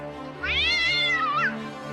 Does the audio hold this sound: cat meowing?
yes